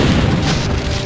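Loud, dense gunfire and explosive booms from shooting aliens in the 1996 Sega Saturn game Alien Trilogy, a continuous roaring blast filling the whole moment with no pauses.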